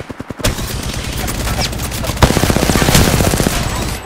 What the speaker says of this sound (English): Spotted, taking fire.